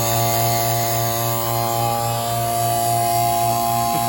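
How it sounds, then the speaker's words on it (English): A vacuum pump for solid-flask investment molding runs with a loud, steady electric hum and buzz, its tone unchanging and close throughout, with no voices over it. "I'm going to open up, turn the vacuum on."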